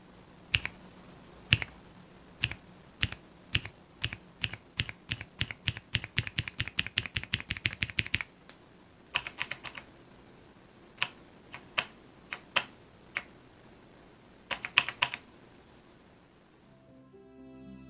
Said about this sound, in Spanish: Este es un teclado de una sola tecla y se puede utilizar para escribir en Morse.